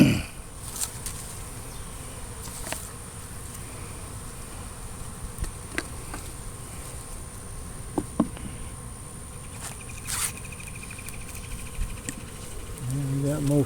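A small honey bee swarm hums faintly and continuously close by outdoors, a soft steady buzz with occasional knocks and rustles, and a voice briefly audible.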